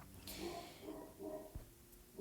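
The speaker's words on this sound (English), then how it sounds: "I'm sorry if you can hear my dog barking." A dog barks and whimpers in a few short, excited bursts, somewhat distant and muffled, with quiet gaps between them.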